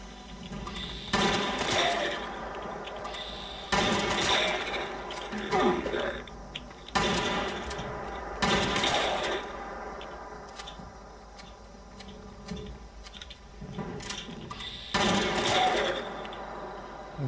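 Bursts of gunfire in the video game Fallout 76, at the Charleston Capitol, erupt in several separate volleys, loud sharp clatter separated by quieter stretches of mechanical ambience.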